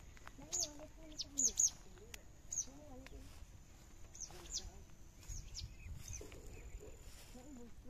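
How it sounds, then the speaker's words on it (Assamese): Assorted birds call across a wetland lake in Goalpara, with short, bright chirps and tweets repeating at a middle distance while a person talks quietly underneath. "নানা ধৰণৰ চৰাই আছে গোটেই মাত শুনি আছে"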